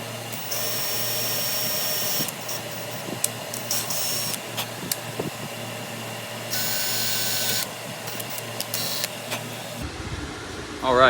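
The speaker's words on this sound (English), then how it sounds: "We're gonna go ahead and drill these holes real quick" Drilling 3/8-inch-deep holes with a 1/8 inch bit into a custom mount for a Garmin EchoMap 64CV transducer, a steady whirring drone in short bursts, fairly close, with a quiet gap between runs.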